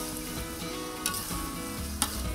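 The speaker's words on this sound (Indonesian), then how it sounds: "selanjutnya ditumis dengan minyak sedikit hingga harum dan matang" Spice paste and chopped boiled octopus sautéing in a little oil, a continuous soft sizzle and crackle with occasional scraping clicks from stirring, close and fairly quiet.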